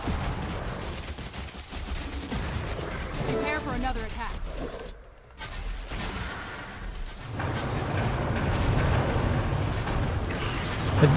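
An airship cannon in Guild Wars 2 fires at a dragon, giving heavy, booming blasts and rumbling impacts. They blend into dense, continuous battle noise, with a short drop to near silence in the middle, while a person talks over it.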